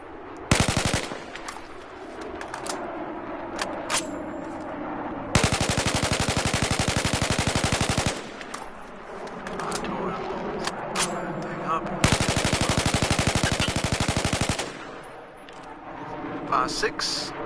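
Carbine rifle fire on the shooting range in Battlefield 4: loud, fast automatic bursts of several seconds each, separated by quieter gaps and a few single shots, with a voice counting between bursts.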